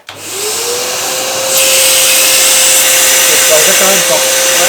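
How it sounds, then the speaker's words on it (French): Loud vacuum extractor whining as it cleans the upholstery inside a Renault Super 5, starting up with a steady tonal whine and then rising into a harsher airflow roar, continuous throughout. "le bruit de l'aspirateur est pas très agréable"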